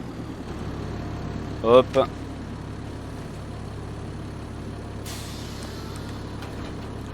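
Valtra tractor in Farming Simulator 25 video game, a steady low engine hum running throughout, with a brief spoken word and a short vocal burst near the start.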